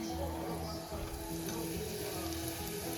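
Luchi, puffed Bengali flatbread, frying in hot oil over a gas stove, giving a steady close crackling sizzle with bubbling that runs evenly throughout, with no talking over it.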